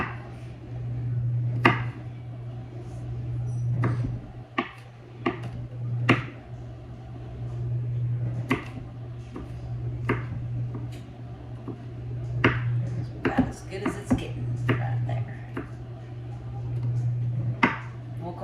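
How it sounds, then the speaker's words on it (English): A knife chops garlic cloves finely on a cutting board in a home kitchen while a meatloaf dinner is being made. Sharp, irregular taps repeat across the whole stretch over a steady low appliance hum. "Just gonna chop these up as fine as I can."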